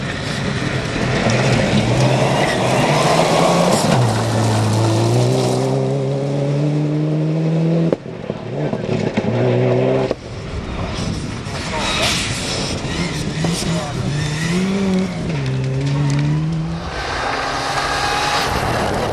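A Subaru Impreza rally car on a special stage roars past with rising and falling engine pitch through gear changes, loud and close, with a brief cut midway; a commentator talks over parts of it.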